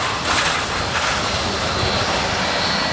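ANA Boeing 787 Dreamliner airliner arriving at Honolulu airport, a loud continuous jet engine roar with broad rushing noise, steady and close throughout.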